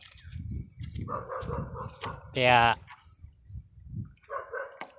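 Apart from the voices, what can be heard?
dog barking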